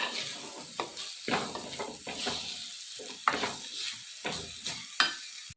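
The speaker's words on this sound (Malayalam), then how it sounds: "മസാല ചേർത്ത് ഒരു മൂന്ന് മിനിറ്റ് നന്നായിട്ട് വഴറ്റിയെടുക്കുന്നുണ്ട്" Masala sautés in a pan in a village kitchen, soft frying hiss broken by repeated spatula scrapes and stirring strokes, close and moderately quiet, no speech.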